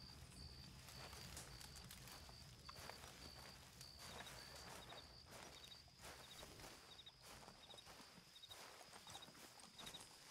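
Horse hooves clip-clop in a Red Dead Redemption game world, with steady overlapping footfalls continuing throughout against a soft, rain-like background hiss.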